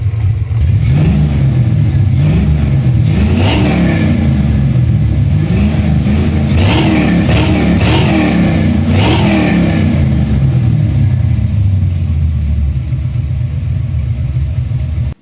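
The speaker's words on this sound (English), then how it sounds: "We have a severe internal engine problem, most likely, in fact, almost undoubtedly, in the lower end of the motor." A 1989 Mustang GT Foxbody V8 with severe lower-end internal damage revs repeatedly, loud and close, its rough rumble rising and falling in several surges over a steady idle.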